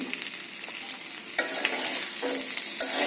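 Horn fish with fried jackfruit seeds stirred gently in a hot pan, a steady close sizzle broken by a few soft scraping strokes, with no talk.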